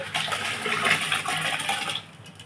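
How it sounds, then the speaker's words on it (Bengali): Hot water is poured over rice that has soaked for three hours, ready for mutton biryani, a continuous hissing splash lasting about two seconds before it tapers off. "জলটা গরম হয়ে গেছে, আমি এর মধ্যে ঢেলে দিচ্ছি।"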